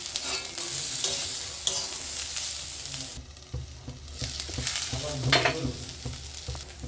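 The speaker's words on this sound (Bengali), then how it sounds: "কাঁচা লঙ্কা এটা দিয়ে আর একটু ভালো করে নেড়ে নেব" Potatoes, onion and green chili being stir-fried in oil in a wok: a continuous sizzle broken by scraping and clattering of the spatula as the food is tossed, fairly close and loud.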